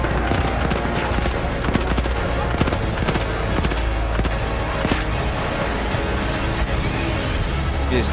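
Dense, continuous gunfire from Battlefield 1 single-player combat, rapid machine-gun bursts and overlapping shots forming a steady, loud barrage with no pauses.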